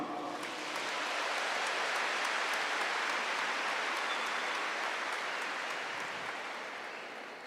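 Sustained applause from a church congregation fills the space, a dense even wash of many hands clapping together at steady loudness that slowly fades toward the end.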